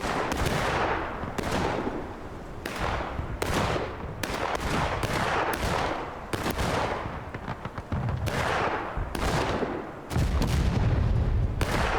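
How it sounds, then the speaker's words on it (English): Repeated loud booms of artillery fire in a Civil War video game roll out one after another over twelve seconds, dense, close and heavy, with gunfire crackle between the blasts and no talk. "Look at that artillery shot."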